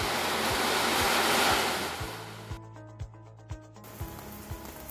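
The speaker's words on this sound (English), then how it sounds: "They measured the rainfall noise on 2 roof specimens, a roof covered with metal sheets and another one covered with Onduline sheets." Constant rainfall on roof sheeting, first a loud dense hiss like heavy rain on metal sheets, then, after an abrupt change, a much quieter muffled patter over Onduline sheets, with a faint regular ticking throughout.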